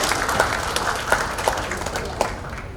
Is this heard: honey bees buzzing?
no